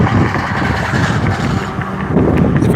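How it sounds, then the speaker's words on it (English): Strong wind buffets a microphone outdoors at a roadside spot, a loud, constant low rumble with gusty swells, heavier near the end, and no voices. "Very windy"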